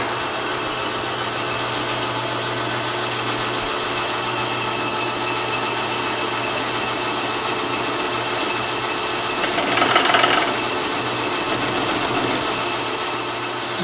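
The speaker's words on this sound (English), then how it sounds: "take the boring bar and eat that aluminum out of there" A lathe boring bar cutting aluminum held in a 3-jaw chuck, a steady continuous machine hum with a brief louder cutting swell near the end, no talking.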